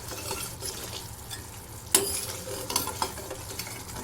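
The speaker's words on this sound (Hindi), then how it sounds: "ये देखिए, हम इसको अच्छे से चला रहे हैं" Taro pieces cooked with curd in a pan are stirred with a utensil, giving a steady soft scraping and gentle sizzle with a few sharper scrapes and taps against the pan, close and moderately loud, with no voices.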